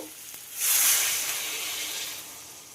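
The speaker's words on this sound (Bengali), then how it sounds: "এবার এতে পরিমাণ মতো জল দিয়ে দেব।" Water poured into a hot pot of sweet pumpkin curry bursts into a loud, hissing sizzle that rises suddenly and then settles into a steady steaming hiss, with no voices.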